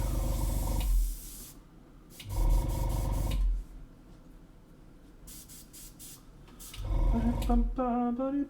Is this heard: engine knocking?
no